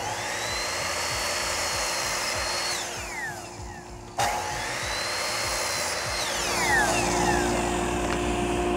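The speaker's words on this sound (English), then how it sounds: "I want the dust collector to stay on for an entire minute after I've made the cut" A miter saw in a home workshop spins up and cuts with a steady whine that winds down, while a dust collector drones continuously underneath, the roar running loud and unbroken throughout.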